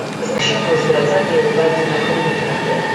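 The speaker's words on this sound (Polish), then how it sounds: "Za chwilę wjedzie Husa z pociągiem z Berlina do Gdyni." A train rolls into Poznań Główny station on its Berlin to Gdynia run, a steady rumble of wheels with faint squealing and clatter under a continuous wash of station noise.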